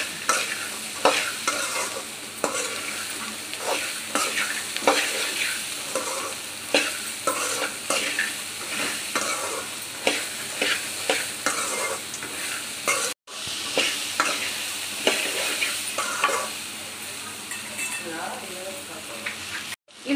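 Black chana fries and sizzles in a pan on a gas stove while a spoon stirs it again and again, giving rhythmic scraping strokes over a constant crackle, with two brief breaks.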